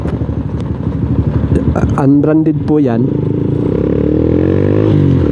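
Motorcycle with slim tires riding on a road, a steady loud engine drone with wind rumble close to the mic, someone speaking over it through the first seconds.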